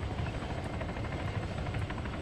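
A helicopter in the video game ArmA 3 gives off a steady, loud rotor and engine roar that fills the whole stretch without a break.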